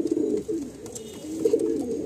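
Kaldam breeding pigeons, a male and female being paired indoors, coo in low, throaty, rolling notes that swell and fade continuously at close range.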